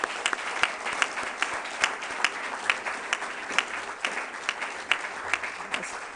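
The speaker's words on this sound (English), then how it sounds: "please just stand up so that we can clap and say thank you" A conference audience at the Technical University of Kenya claps in thanks to the organising team, a steady crowd applause with sharp individual claps rising above the wash throughout, moderately loud and without talk.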